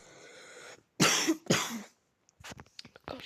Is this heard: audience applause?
no